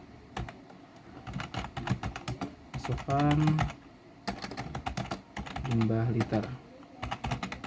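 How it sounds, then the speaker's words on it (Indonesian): Python code is typed on a computer keyboard in quick, irregular bursts of clicking keys. A person talks intermittently over the typing. "di sini ketik for i in range"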